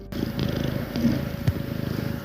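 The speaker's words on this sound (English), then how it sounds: "I think your purring is really loud right now" A steady, low rumbling purr from a female cat close by, continuous throughout with a faint soft thump partway.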